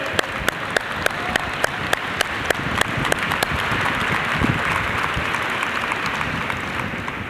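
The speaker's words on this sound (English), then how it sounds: "You give them a round of applause." Audience applause fills a State of the City speech hall in Bridgeport, a dense steady roar of many hands with sharp periodic clicks on top, running continuously at moderate level.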